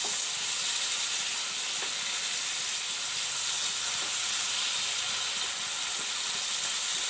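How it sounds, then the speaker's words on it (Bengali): Eggplant frying in a pan with chopped tomato added, a steady close hissing sizzle with faint occasional stirring taps, no voices. "বেগুনটা একটু ভেজে নেব। এবার আমি দিয়ে দেবো টমেটো কুচি।"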